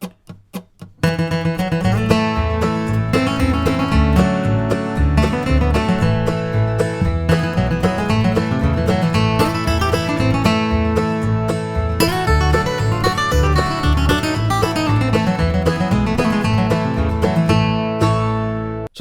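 A bluegrass C-shape lick for Nine Pound Hammer plays on acoustic guitar, with brisk flatpicked notes and chords in steady rhythm running for the whole clip, and no voices.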